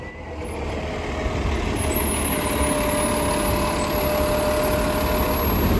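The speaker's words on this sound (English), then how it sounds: "our bus to Franconia Springfield finally arrived" A city bus engine idles with a low, steady rumble close by, growing slightly louder, with a faint high hiss above.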